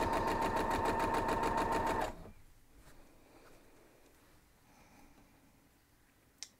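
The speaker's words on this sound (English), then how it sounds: "So let's get these all sewn down." A sewing machine runs fast and loud, stitching quilt block pieces in a steady rhythmic burst for about two seconds, then stops, leaving faint room noise and a small click.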